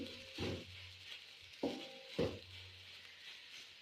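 Egg mixture with crushed black pepper and salt being stirred in a bowl, heard as a few faint, quiet clinks and scrapes in short bursts against a soft background.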